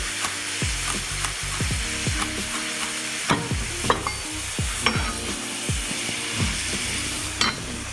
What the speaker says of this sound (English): So saute your chicken, toss in your onion powder.